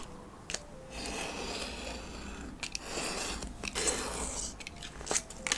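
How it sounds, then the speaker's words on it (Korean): Scissors snip through paper stickers up close, a run of quiet crisp cuts and rustling paper with sharp clicks scattered throughout. "일단 양쪽에 잘라볼게요."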